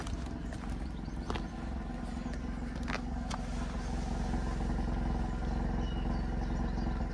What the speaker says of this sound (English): And the exhaust sound.